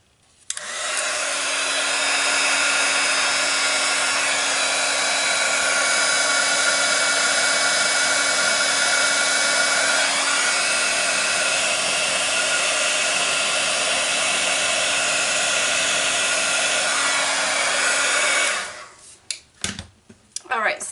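A heat embossing tool blows a loud, steady, hair-dryer-like whoosh with a constant hum while heating embossing powder on a paper butterfly, running unbroken for about eighteen seconds before cutting off with a few handling clicks.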